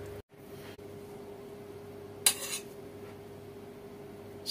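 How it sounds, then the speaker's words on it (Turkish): A spoon scrapes once against a clay güveç pot while scooping a chickpea and meat stew, giving a short, close clatter in an otherwise quiet room. "Şöyle bir kaşık alıyorum yemeğimizden."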